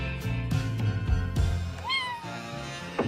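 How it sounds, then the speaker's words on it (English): A kitten gives one clear, rising meow partway through, close and distinct over a background of low rumbling noise. "kittens make everything better"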